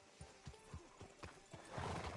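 Horse hooves clip-clop at a steady walking rhythm in Red Dead Redemption II, arriving outside a sheriff's office in town, moderately close; a louder rush of noise swells near the end.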